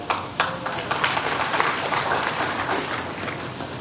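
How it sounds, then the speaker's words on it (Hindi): An audience at a BJP Jaipur district intellectuals' conference breaks into applause, a crackling wash of many hands clapping together that holds steady throughout. "इस बात पर उन लोगों ने ताली बजाई जिन्होंने 6वीं में ABCD सीखी"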